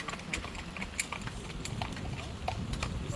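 Horse hooves clip-clop at a steady walking pace as a horse pulls a carriage in Viñales, Cuba, the clops moderately close among rattling and street noise, with faint voices in the background.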